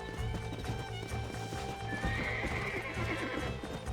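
A horse in the Red Dead Redemption video game clops along steadily with rhythmic hoofbeats and occasional whinnies, fairly quiet under a soft background.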